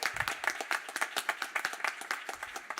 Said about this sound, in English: please give him a round of applause for his dedication